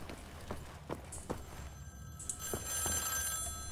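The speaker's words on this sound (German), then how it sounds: "hier ist das Telefon, was klingelt." In the game Wolfenstein: The New Order, a telephone bell rings faintly in the background, heard as a rising shrill ring near the end, preceded by soft regular footstep-like thuds.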